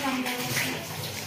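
Water pours steadily from a household tap in a continuous close rush while a voice talks over it.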